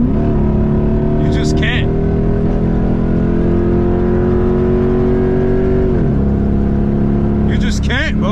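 A Jeep SRT8 V8 drones loud and steady from inside the cabin while driving, holding a low revving tone that drops slightly near the end, with brief spoken voices over it.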